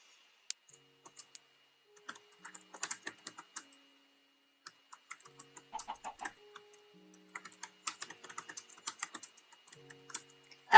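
Close keyboard typing in irregular bursts of quick clicks separated by short pauses, in an otherwise quiet room.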